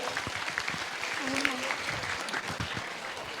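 A school audience at a Pongal celebration claps steadily with a dense, crackling patter, while a voice briefly speaks over the applause.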